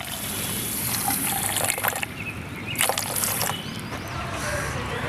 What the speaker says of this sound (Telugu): షుగర్లో కాస్త వాటర్ వేసుకుందాం